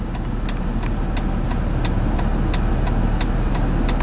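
Road traffic heard from inside a car on a busy morning, a loud continuous engine and road rumble with regular ticking clicks repeating through it.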